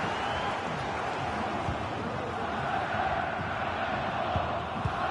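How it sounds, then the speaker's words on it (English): Stadium crowd in an FC 24 football match between Leipzig and OM: a continuous, broad roar of many voices with rising swells of noise, steady and loud throughout with no clear speech. "Well, just listen to the crowd."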